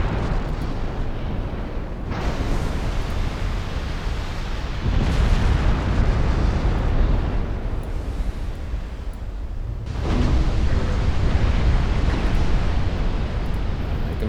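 A battlecruiser explodes and sinks in the naval game Ultimate Admiral Dreadnoughts, a sustained, heavy roaring rumble with surging waves of blast noise, loud and continuous, with swells around two, five and ten seconds.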